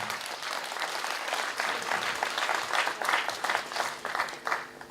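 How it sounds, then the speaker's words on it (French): A wedding audience applauds the newly married couple, dense sustained clapping from a sizeable crowd, fairly loud and steady throughout. "On applaudit également pour le couple Bounzana."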